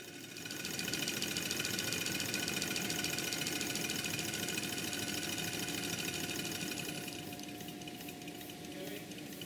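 An LNER V1 steam locomotive engine runs in a workshop test, giving a steady, dense mechanical clatter that keeps an even rhythm and stays fairly quiet throughout, with no voices.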